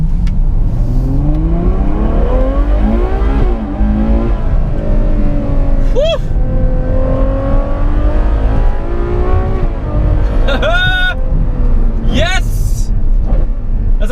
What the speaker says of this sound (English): I am picking up their latest V12 Super GT